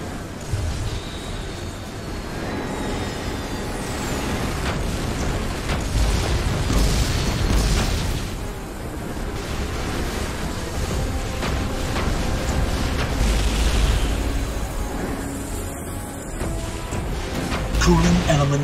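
Explosions destroy hangars in the Iron Man video game on Xbox 360: deep booming blasts and bursts roll on continuously for the whole stretch at a steady loud level, layered with game effects and a voice.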